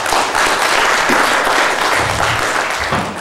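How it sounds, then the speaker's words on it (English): A conference crowd at a Kickstarter Academy session gives a loud, dense round of applause, steady throughout with many hands clapping at once and no voices on top. "round of applause"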